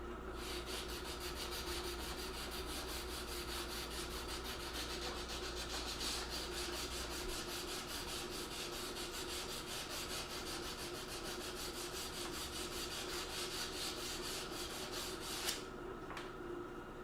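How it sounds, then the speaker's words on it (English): Steady rhythmic rasping of hand sanding on a forged blade continues up close for a long stretch, strokes even and unbroken. "I'm sure there's people that will watch hand sanding."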